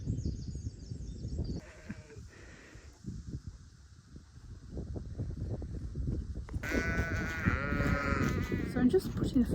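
Sheep bleat on a farm at lambing time, some calls faint and distant early on, then a loud, close, drawn-out bleat near the end, over steady outdoor rustle and handling noise; a person talks quietly in places.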